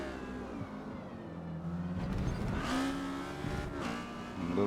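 A race car engine in the Forza Motorsport video game at Lime Rock, with an Exocet, drones and revs steadily, the pitch climbing and shifting through gears, with faint tire noise and no talk.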